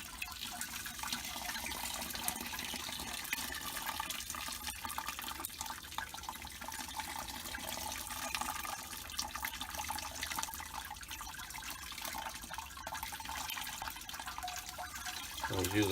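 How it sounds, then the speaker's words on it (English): Hot sparge water poured through a strainer over mashed grains while brewing homemade beer, a steady continuous splashing trickle of liquid lasting throughout, fairly close. "I want to try to rinse all the grains as much as possible."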